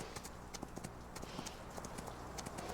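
Horse hooves clip-clopping during riding in the video game Farming Simulator 19, a quiet, steady rhythmic patter of hoof strikes throughout.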